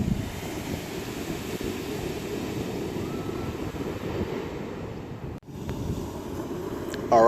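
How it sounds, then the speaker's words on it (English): Strong wind at the beach buffeting the microphone in a constant low roar, with a brief dip near the end before the gusting resumes. "Windy, kind of windy today."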